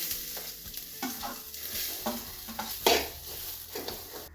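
Grated coconut stirred and frying in coconut oil in a pan for a Kerala chicken curry, giving a steady sizzle under repeated scraping strokes of a spoon against the pan, close and moderately loud.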